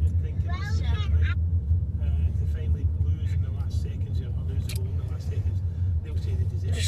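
Car engine from a video playing in the room, a steady low rumble throughout, with a voice briefly over it and background noise.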